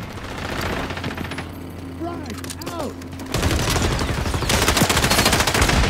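Rapid automatic fire from a P90 submachine gun in the shooter game XDefiant, dense bursts crackling continuously and growing louder toward the end, with game effects and occasional voice underneath.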